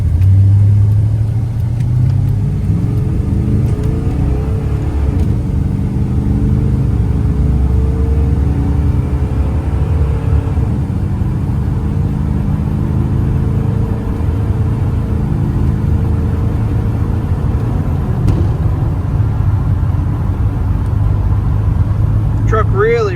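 A 1995 Chevrolet C1500 Silverado pickup pulls away under acceleration, a steady, close engine rumble with gently climbing pitch sustained throughout, while a voice talks over the drive.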